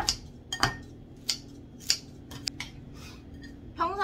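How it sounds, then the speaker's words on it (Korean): Scissors snip through wilted vegetables for a diet bibimbap, several sharp, separate metallic clicks and cuts spaced irregularly, close and fairly clear over a quiet kitchen background. "가위로 좀 잘라볼게요."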